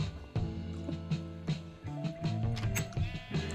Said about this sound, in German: Dann haben wir jetzt zwei Schafe.